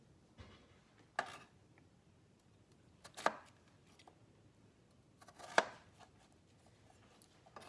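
A knife chops through potatoes on a cutting board, with three sharp, isolated cuts spaced a couple of seconds apart over a quiet kitchen background.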